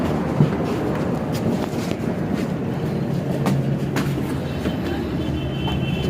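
A crowded metro train rumbles along steadily from inside a carriage, with rhythmic wheel clatter and occasional metallic clicks, loud and continuous.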